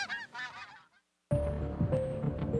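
Geese honking in a wetlands conservation radio advertisement, several birds calling in overlapping squawks, then a brief pause before a louder burst of honks and flock calls resumes.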